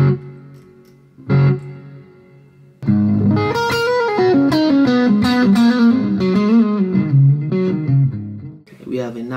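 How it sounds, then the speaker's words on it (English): An electric guitar played through a Boss GX-100 multi-effects unit with a plate reverb: a couple of isolated notes, a pause, then a flowing run of ringing, sustained notes with long shimmering tails, loud and close. "I typically like the plate reverb."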